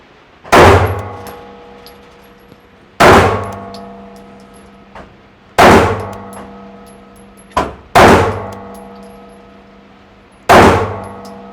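Five loud, sharp gunshots fired at a shooting range during a stance and presentation drill, each with a long ringing decay, spaced roughly every two and a half seconds, with faint clicks in between.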